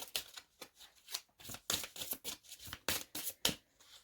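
Tarot cards being shuffled and drawn, a quick run of crisp riffling and slapping card sounds in uneven bursts, close and fairly loud with no talking.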